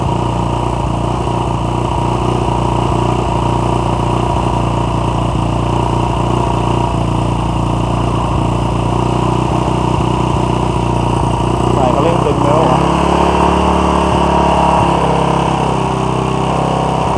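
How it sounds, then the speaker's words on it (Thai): A Honda Wave 100 motorcycle fitted with a 125X carburetor runs close and loud at a steady, slightly raised idle, with the engine note shifting as revs change near the end; a voice talks over it. "รถเร่งรอบนิดหน่อยนะครับแต่สตาร์ทแล้วติดเลย"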